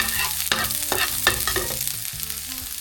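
Garlic fries in hot oil in a pan while being stirred for buttered prawns. A loud, continuous close sizzle is broken by several quick scraping strokes of a utensil, and no one talks.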